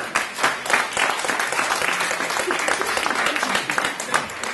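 A hypnosis show audience claps in dense, steady applause that fills the whole stretch, with faint crowd noise beneath and no clear speech.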